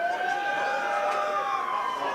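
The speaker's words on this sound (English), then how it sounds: "ambulance out in right field going by as Hyde hits it the other way." An ambulance siren passes beyond right field at a baseball game, a steady wailing tone with slowly shifting pitch, fairly loud and continuous with no talk over it.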